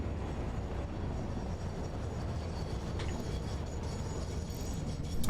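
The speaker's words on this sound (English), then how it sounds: "we can just look at this train as it comes in" A freight train pulls in within the Satisfactory video game, giving a steady, heavy rolling rumble that holds throughout and swells slightly near the end, with no talking.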